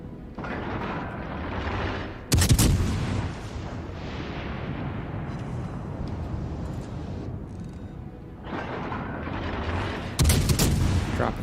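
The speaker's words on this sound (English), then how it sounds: "Drop a few rounds on him." Heavy naval guns in World of Warships Legends, booming salvos fired at an enemy cruiser: two loud blasts several seconds apart, each trailing into a long rumbling roar that fills the gap between them.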